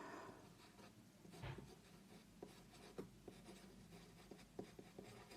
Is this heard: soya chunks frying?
no